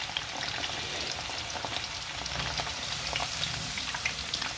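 Chicken fingers fry in hot oil with a steady, dense crackling sizzle that stays even throughout, close up and without talk.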